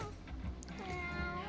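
Cats meow in the video game Mewgenics, a short, clear mewing call over continuous game music, close and moderately loud, with no talking.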